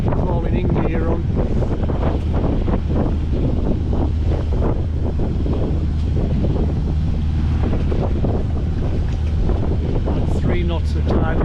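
Constant, loud wind buffeting the microphone aboard a sailing boat on the way to the west of Scotland, with a voice talking over the steady roar.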